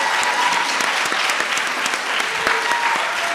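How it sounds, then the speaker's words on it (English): Crowd applause fills a community healing summit in Chicago, a dense, steady patter of many hands clapping together at a constant level with no break. "Let's give everyone a round of applause."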